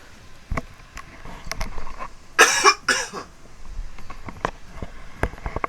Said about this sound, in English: that was a big cough